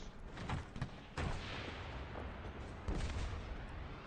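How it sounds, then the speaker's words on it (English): Belt-fed DP light machine gun firing in Squad, with several heavy reports and short bursts rolling over a dense rumbling battle din, moderately loud and echoing. "the belt-fed DP is a belt-fed light machine gun"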